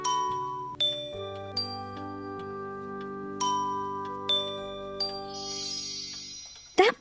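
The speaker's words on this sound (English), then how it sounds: "firstly, you need to ring the bells" Bells ring out a slow melody of single clear tones, each struck note sustaining and overlapping the next, ending with a brighter cluster and a sharp final strike.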